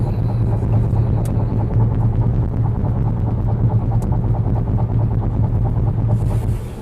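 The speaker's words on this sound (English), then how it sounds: "A bit of noise here from the rumble strips" A 2021 Audi Q3 Sportback quattro with all-wheel drive runs its tyres over rumble strips on a wet hill-climb road, giving a steady, loud low drone with a pulsing throb inside the cabin, no talking.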